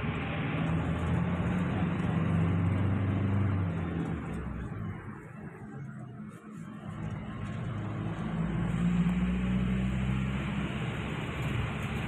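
Inside a small Trans Jatim bus travelling from Sidoarjo toward Gresik, a low engine drone and road rumble hum steadily, easing off briefly mid-ride as the vehicle slows before building again.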